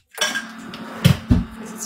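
A coffee cup and spoon clink together in a few quick, close ceramic-and-metal knocks, two sharper taps standing out near the end.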